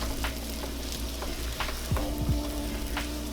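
A whole stick of unsalted butter melting in a pan over medium heat, giving a steady, soft sizzle and crackle throughout with a few faint clinks, close by and with no talking.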